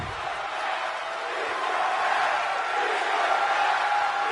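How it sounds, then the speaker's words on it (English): A wrestling arena crowd roars in the video game WWE 2K22, a dense, steady wash of cheering and crowd noise that fills the whole clip at high volume. "The crowd wants more if you listen to them"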